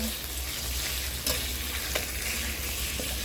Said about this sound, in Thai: ใส่ลงไปเลยค่ะ ผัดกับเครื่องแกงให้หอมก่อนนะคะ